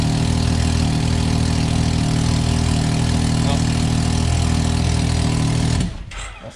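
A Can-Am X3 engine with an exhaust leak at a loose band clamp idles steadily and close by, a constant rumble that cuts off abruptly near the end.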